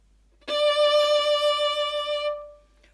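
A single firm bowed string note with a harder, more noticeable catch-and-release attack, starting abruptly and sustaining steadily for about two seconds with a rich, bright tone before fading, played alone with no talking.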